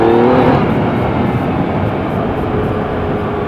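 A Yamaha XSR-900 triple-cylinder motorcycle pulls hard under throttle on a test ride, a loud, continuous, close engine roar mixed with wind rush, with no talk.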